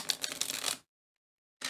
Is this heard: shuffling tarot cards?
yes